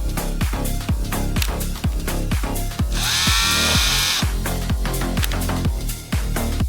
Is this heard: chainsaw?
yes